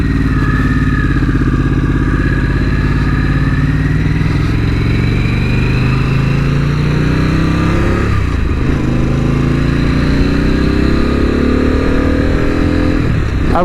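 A Harley-Davidson Pan America CVO motorcycle engine while riding, loud and close, a steady droning growl that rises in pitch through the gears with two quick shift dips and re-accelerations, wind rushing underneath and no talking.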